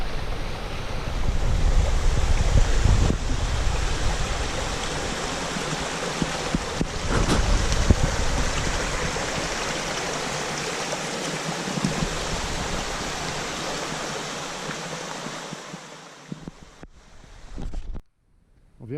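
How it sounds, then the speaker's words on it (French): A small forest stream at Mont Mégantic rushes steadily close by, a broad continuous wash of flowing water with gusts of wind against the microphone, fading away near the end. "nous sommes à côté d'un merveilleux petit ruisseau"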